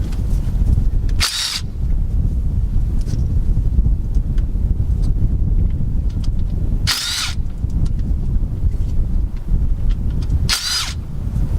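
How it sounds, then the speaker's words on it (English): Under a steady low rumble, a 1/2 inch power driver spins out the differential cover bolts on a 2000 Jeep Cherokee rear axle, whirring in three short, sharp bursts spaced several seconds apart. "Bring up all 10 bolts with your 1/2 inch driver."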